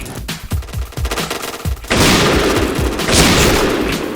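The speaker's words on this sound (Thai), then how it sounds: "เล่นสไนเปอร์พลาดแล้วพลาดแล้ว" Gunfire in the Point Blank video game: a run of sharp separate shots gives way to a dense, loud, continuous burst of firing and blasts.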